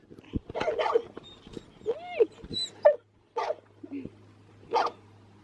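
A puppy whimpers and yips in short, high, wavering bursts, several separate cries with quiet gaps between them, close by.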